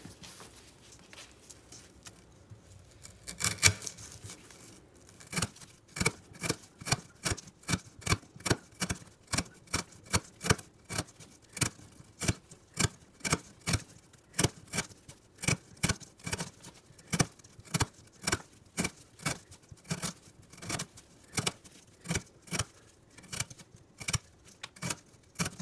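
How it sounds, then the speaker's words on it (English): A Damned Designs Invictus folding knife makes repeated push cuts through 1/2 inch twisted sisal rope, each one a crisp fibrous snap in a steady regular series of about forty, close up and with no voices. "we're gonna cut up some of this 1/2 inch twisted sisal rope"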